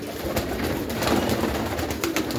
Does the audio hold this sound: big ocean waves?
no